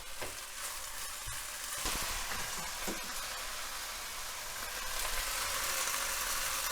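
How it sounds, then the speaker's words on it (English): Garlic sizzles and crackles steadily in a hot pan while being stirred, a dense close frying hiss with occasional scraping clicks, no talking. "we're gonna add some of the garlic and we're gonna give it a bit of a stir"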